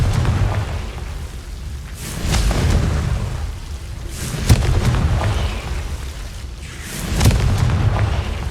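Repeated Confringo fire spell blasts in Hogwarts Legacy: three or four booming explosions, each with a sharp crack and a rolling rumble that fades before the next.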